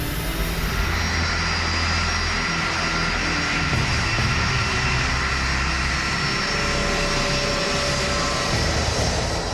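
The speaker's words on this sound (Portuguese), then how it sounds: "Impulsionado por suas 3 turbinas, o avião percorre a pista de decolagem." A three-engine DC-10 jet airliner roars steadily and loudly as it accelerates down the runway for takeoff, a dense continuous engine rumble with no voices.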